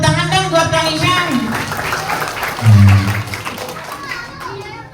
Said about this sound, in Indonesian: Tepuk tangan dong buat Kang Isang.